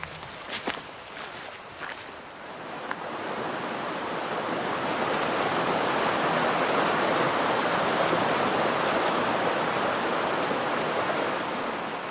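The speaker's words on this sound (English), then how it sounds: "Pretty shallow pool here beneath the first set of falls" Steady broadband roar of a wilderness river's waterfall spilling into a shallow pool, loud and continuous, with a few brief clicks and rustles near the start before the rushing water swells and holds.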